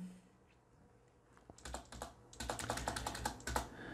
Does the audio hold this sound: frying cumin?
no